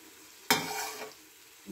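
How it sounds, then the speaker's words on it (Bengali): Chopped green chilli and coriander leaves being stirred into a cooking dish: one sharp scraping, sizzling burst that fades over half a second, followed by a short soft clatter, quiet and close with no voices. "এটা ভালো করে নাড়াতে হবে।"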